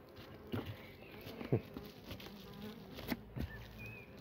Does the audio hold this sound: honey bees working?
yes